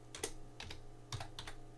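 Fingers typing on a computer keyboard, a short burst of light, close key taps in an uneven rhythm with a faint hum beneath.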